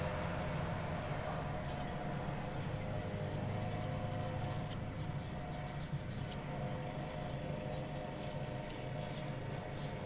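A lawnmower's steady, low engine drone runs continuously in the background, with faint scratching and rubbing noises close by.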